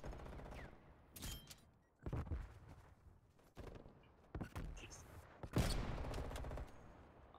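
Bursts of RPD light machine gun fire ring out in a video game, several separate volleys with short pauses between them, loud and sharp, with a few faint footstep-like sounds in the gaps.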